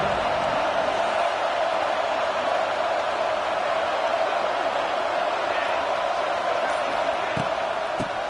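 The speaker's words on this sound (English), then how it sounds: "Listen to the crowd energy here in the early going." A stadium crowd at an American football game sends up a steady, dense roar that stays constant throughout, like distant cheering filling the stands.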